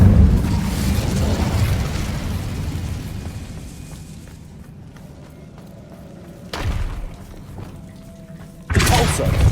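An Incendio fire spell cast in Hogwarts Legacy, heard as sustained roaring, rumbling fire with thuds that fades down, then two abrupt loud broadband bursts toward the end.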